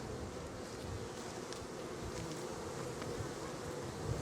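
Honey bees swarm noisily around a hive frame holding stored honey, brood and pollen, a dense steady buzz close by with faint handling clicks, no talking.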